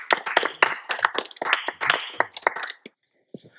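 A single person clapping hands in quick, uneven bursts close by, a run of sharp claps that stops abruptly, followed by a couple of faint taps.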